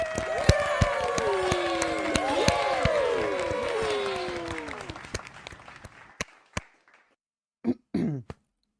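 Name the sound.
audience applause for the podcast crew and host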